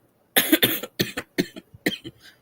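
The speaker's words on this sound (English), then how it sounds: "sorry, I've been sick lately, so I cough a lot" A sick person coughs in a rapid fit of several harsh, close bursts, trailing off into a few weaker coughs.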